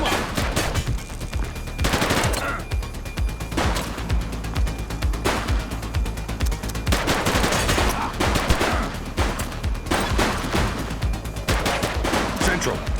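Police open fire on suspects in The Precinct video game: dense, loud bursts of rapid gunfire come in repeated volleys with short gaps, close and sharp, with shouting voices mixed in.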